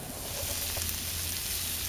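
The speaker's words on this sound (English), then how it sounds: "You see the oil sizzling." Oil sizzles steadily in a pan as pork chops fry over a brick rocket stove, a constant close hiss with a low fire rumble beneath and no talking.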